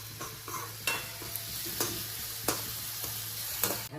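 Tomato and spices sauté in a pan, sizzling softly while a spoon stirs and scrapes the pan in regular strokes about every second, close and fairly quiet.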